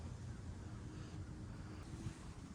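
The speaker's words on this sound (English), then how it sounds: "The wind's starting to blow." Wind blows outdoors during oil pan gasket work on a Nissan 350Z, a faint, steady low rumble buffeting the microphone with no clear gusts.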